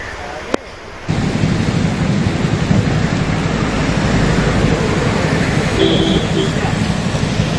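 Heavy, unbroken monsoon rain pours down over flooded streets in Rajamahendravaram, a loud, dense roar filling the scene, with a sharp thunder crack near the start before the downpour swells and holds steady.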